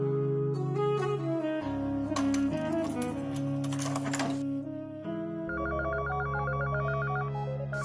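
A telephone bell rings repeatedly and loudly over background music, the ringing pattern continuing through most of the clip with no talking.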